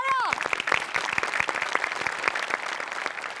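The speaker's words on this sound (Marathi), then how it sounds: "मस्त टाळ्या!" A studio audience at a Marathi comedy show claps in dense, steady applause that fills the clip after a short musical note at the start.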